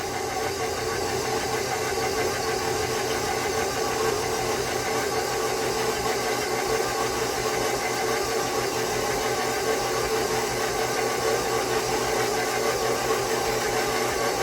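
A stand mixer motor runs slowly and steadily while working six cups of oats into oatmeal cookie dough, a continuous close hum with a faint rattle and no talking.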